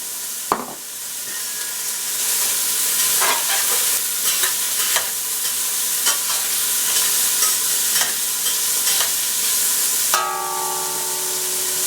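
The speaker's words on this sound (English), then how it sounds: "I've got a pound of smoked sausage that I've diced up, and that goes in the pot." A pound of diced smoked sausage hits a pot with olive oil and browns, first a sharp drop, then a constant bright sizzle with sporadic spoon clicks and stirring, close and uninterrupted by talk.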